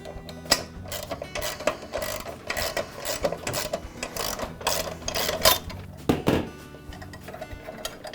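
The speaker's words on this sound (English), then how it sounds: "Then I'll use a socket wrench to remove the bolt." A socket wrench works a lawn mower blade bolt, with the blade held by a block of wood, giving irregular close mechanical clicks and clacks in uneven bursts, with no talk.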